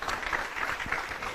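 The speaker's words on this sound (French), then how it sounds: "que je vous prie d'applaudir s'il vous plaît" Brief, dense applause from the audience at an ophthalmology congress, a steady wash of clapping at moderate level.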